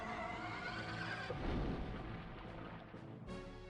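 In the Rogue Squadron video game, torpedo hits land as a deep, rumbling explosion that swells midway and fades over a few seconds, heard over steady game audio with no voices.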